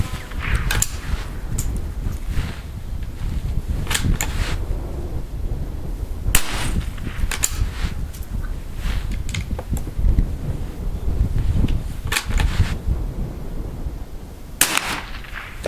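Suppressed rifle shots from Aguila Super Subsonic and Cobra rounds fired at targets, a series of sharp, irregularly spaced cracks over low rumbling background, with no talk.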